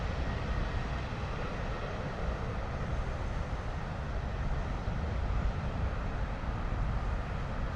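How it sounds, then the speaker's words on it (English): A British Airways Airbus A321neo on final approach into London Heathrow, heard as a steady, broad jet-engine roar and rushing air that holds at a constant loudness throughout, with no talking. "A321neo, British Airways coming in from Cairo."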